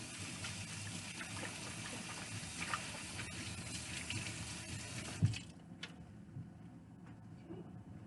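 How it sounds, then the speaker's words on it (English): Kitchen tap water runs steadily as hands are washed after cutting cheese, a continuous splashing rush that cuts off abruptly partway through, leaving quieter room sound. "I'm going to wash my hands real quick"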